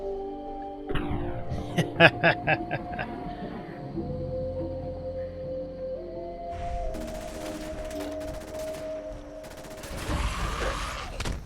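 Gunfire in the video game Fallout 4: a quick burst of sharp shots, then sustained electronic tones and humming game effects, ending in a louder rumbling blast.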